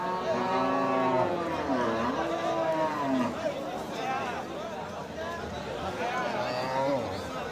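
Cattle lowing repeatedly at a busy Bangladeshi cattle market for Qurbani bulls, several drawn-out moos rising and falling amid constant crowd chatter and hubbub, fairly close and loud.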